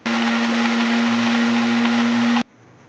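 A kitchen blender runs hard on a garlic sauce of lemon juice, vinegar, black pepper, salt and oregano, a loud, steady whirring drone close by for over two seconds before cutting off abruptly.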